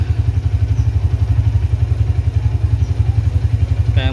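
A Honda Tiger Revo motorcycle idles up close, its single engine thumping in a steady, rapid rhythm with a light mechanical clatter, loud and even, with a voice starting just at the very end.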